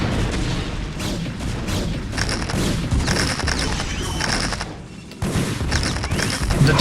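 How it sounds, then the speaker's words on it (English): Mines detonate and photon cannons fire in a StarCraft: Remastered battle, a busy run of repeated booms, blasts and sharp shots that rises and falls before a loud burst near the end. "putting a mine in range of the photon cannons will not work out well"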